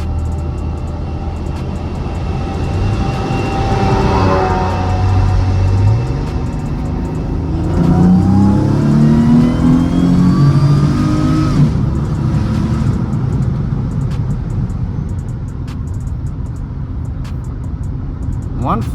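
A supercharged Mercedes C32 AMG accelerating, its engine rising through rising pitch sweeps and a gear change, loud and steady inside the cabin with someone talking over it.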